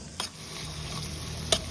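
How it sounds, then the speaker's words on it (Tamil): Onions, green chilies and cumin sautéing in oil in a kadai, a soft steady sizzle with a couple of brief scraping stirs of a spoon against the pan, close and alone. "ஒரு கடாயில் எண்ணெய், ஜீரா, பொடி பொடியாக நறுக்கின பச்சை மிளகாய், நறுக்கின வெங்காயத்தை போட்டு நல்லா வதக்கிக்கோ"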